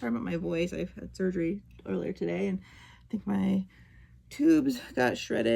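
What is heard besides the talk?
No everyday noise stands out behind the speech.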